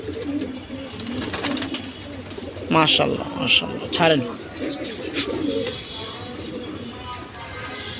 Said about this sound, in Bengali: দেখেন ভিউয়ার্স কবুতর কেমন